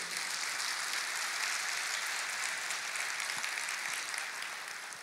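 A church congregation applauds steadily throughout, a dense, even wash of clapping held at moderate loudness and tapering slightly at the end.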